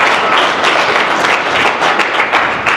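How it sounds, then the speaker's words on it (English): Audience members at a real estate investor seminar applaud, a loud, dense burst of clapping filling the room without pause and with no speech over it. "give him a round of applause, everyone."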